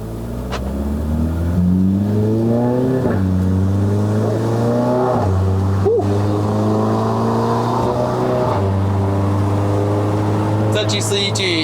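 A Stage 2 MK7 VW Golf R, with a 2.0-litre turbo EA888 four-cylinder and modified valved exhaust, climbs a mountain road to Genting, Malaysia. Loud, close revving rises repeatedly through the gears, with a drop at each shift.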